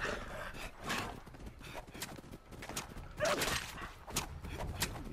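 Dogs barking in the video game Fallout 76, a few short, sharp barks scattered through busy game noise and footsteps, moderately close and not very loud.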